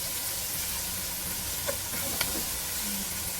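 Garlic browning with a little tomato in a hot pan gives a continuous dense sizzle and hiss, with a couple of faint clicks from a utensil and no talking.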